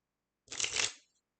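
A single quick riffle of playing cards, a crisp fluttering burst lasting about half a second, close by, followed by silence.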